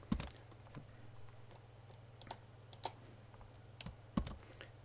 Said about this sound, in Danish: Indtaster brugernavn og password og klikker på login.